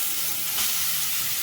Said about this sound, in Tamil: கேரட் போட்டு அதுவும் ஃப்ரை பண்ணிக்கலாம்